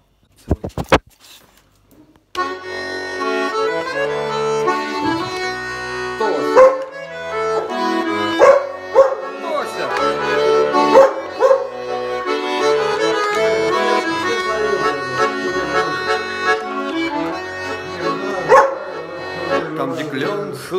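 Accordion music plays steadily with a dog barking and yelping along in short bursts, close by, after a brief pause at the start.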